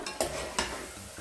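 Cooked-down vegetables lifted out of melted butter in a pot with a slotted spoon for chicken à la King, two short metallic scrapes over a soft sizzle, close and quiet with no voices.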